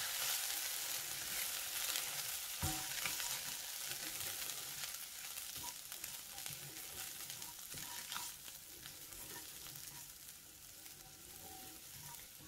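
Washed rice and dal are stirred together in a pan for khichdi, with a faint, steady sizzle and soft scraping strokes, quiet and close, without voices.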